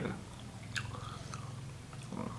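Fried shrimp cakes bitten and chewed close to the mic, soft crunching and wet mastication over a quiet room, brief and fairly faint.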